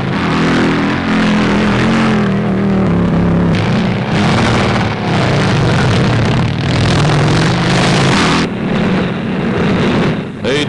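U.S. Army motorcycles on a 1942 cross-country dispatch rider training run, their engines a loud, continuous roar with shifting pitch, heard under a narrator's voice.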